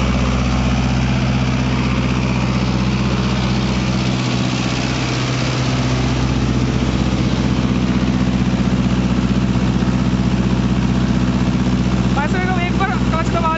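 A Mahindra NOVO 655 tractor engine runs steadily with a 9-foot Param rotavator in heavy black clay soil, a loud continuous rumble with a slight dip in load partway through.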